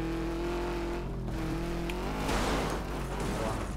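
Rally car in the video game DiRT 2, its engine holding a steady near tone before revving hard and roaring with gritty, rising noise.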